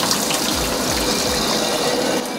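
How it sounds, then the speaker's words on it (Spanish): Water from a leak at the entrance of a residential passage in Colonia Mirasol, Mexicanos, pours steadily into a street storm drain, a loud continuous rushing gush close by. "A este tragante llega el agua de una fuga ubicada en la entrada del pasaje 2 de la colonia Mirasol en Mexicanos"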